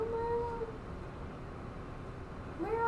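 A pet cat meows indoors, one drawn-out cry at the start and another near the end, faint and fairly close against a quiet room.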